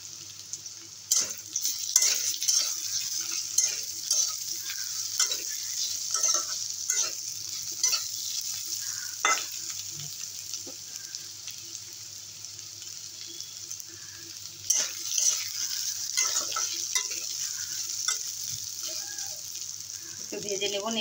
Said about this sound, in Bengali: একটু ভেজে নেবো নেড়ে চেড়ে।